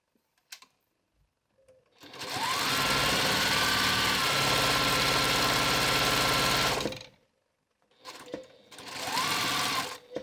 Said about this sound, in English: I'm sewing the mask in, and I'm just going to make sure that my ends, the edges of the fabric are securely in here